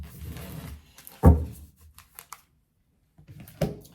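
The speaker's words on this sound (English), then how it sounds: "My shuffles take quite some time" Tarot cards are shuffled by hand in short, irregular bursts of riffling and tapping, with quiet gaps between them and no talk.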